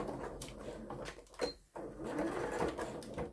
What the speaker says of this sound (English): I'm just going to use my universal foot with the needle moved over. And I'm going to stitch the binding on.